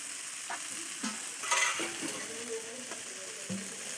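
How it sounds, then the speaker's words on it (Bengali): Snake gourd sautés in a pan with a steady background sizzle, while a spatula scrapes and stirs in occasional strokes, close and moderately quiet. "চিচিঙ্গাটা আমি এখন ভালোভাবে কষিয়ে নিচ্ছি"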